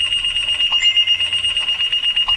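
Phone alarm going off during a town board meeting, a loud piercing electronic beeping that pulses rapidly and evenly in quick bursts, close and alone without talk.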